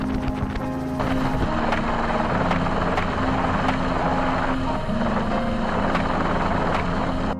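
A helicopter flies over farmland in Texas, its steady rotor thump and engine drone loud and continuous throughout, with a faint rhythmic chop and a brief swell partway through.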